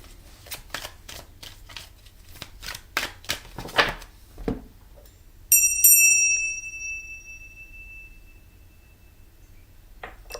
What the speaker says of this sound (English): I brought the bell back.